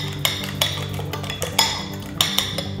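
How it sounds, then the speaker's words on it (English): A fork whisking in a bowl while making Bahamian mac and cheese, giving a series of sharp metallic clinks against the bowl at irregular intervals, close and moderately loud, with no talk. "I'm whisking."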